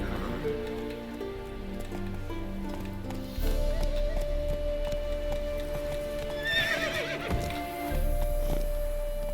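Galloping hooves clip-clop steadily as a horse in The Witcher 3 runs, with a loud neigh partway through, set against game music and ambient rain.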